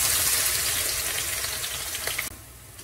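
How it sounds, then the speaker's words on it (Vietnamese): Minced, thinly sliced lemongrass frying in very hot oil, a steady close sizzle and crackle that runs loud and even before dropping off abruptly near the end. "Dầu thật sôi hãy cho xả vào ha. Mình sẽ rang chín xả ha."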